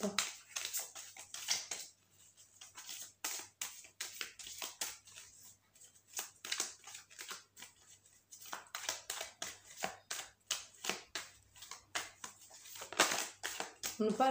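Tarot cards are cut and shuffled in bursts of crisp papery snaps and riffles, close up, with someone talking between and over them.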